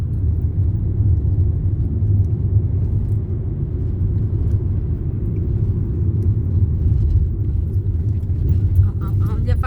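A car drives along a road with a constant low, loud engine and tyre rumble from inside the cabin, while voices talk over it.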